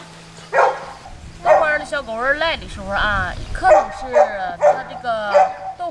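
Husky puppies yip, whimper and bark in a rapid series of high whiny calls close by, overlapping one another with a steady low hum underneath.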